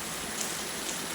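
Steady rain falls in a continuous hiss, even and fairly close, with no voices.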